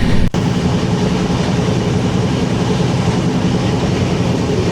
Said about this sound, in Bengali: আমাদের ট্রেন ছেড়ে দিল জাংহাই জংশন থেকে।